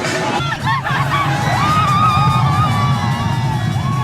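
Crowd at a Yeongsan wooden bull fight festival ground, the Yeongsan soemeori-daegi, raising victory shouts and cheers as the eastern wooden bull topples the western one; a dense, loud hubbub of voices with whoops throughout.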